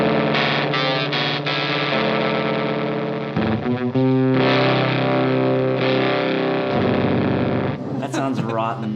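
Guitar played through a Moog 12-stage vintage phaser pedal, a loud distorted chord with a deep, swirling, sweeping whoosh that shifts and warbles, closing with a brief squealing flourish.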